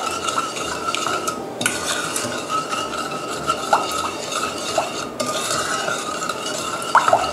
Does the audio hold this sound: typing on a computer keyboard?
no